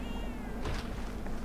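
A cartoonish cat meows in the video game Monster Hunter 4 Ultimate, a single drawn-out, slightly falling meow over a constant game music and ambience bed.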